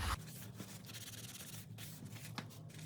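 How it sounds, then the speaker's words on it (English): Cloth rubbing and wiping over a Mercruiser outdrive to clean up spilled hydraulic fluid near a trim ram fitting, a continuous soft scrubbing close up with no talking. "all I'm doing now is just cleaning up some hydraulic fluid"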